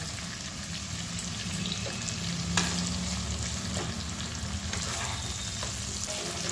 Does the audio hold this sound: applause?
no